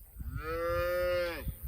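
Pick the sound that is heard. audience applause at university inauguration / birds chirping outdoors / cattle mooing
cattle mooing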